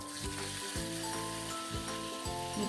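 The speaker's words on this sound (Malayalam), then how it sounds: "എണ്ണ ചൂടായിട്ടുണ്ട് അതിലേക്ക് നമുക്ക് മീൻ കഷ്ണങ്ങളെല്ലാം ഇട്ട് കൊടുക്കുക" Dried fish pieces hitting hot oil and sizzling loudly up close, a dense crackling fry with sharp pops throughout.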